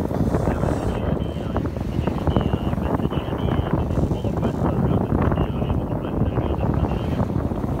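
Wind buffeting a sailboat crossing the English Channel at seven knots, a constant loud roaring rush close to the microphone with no break.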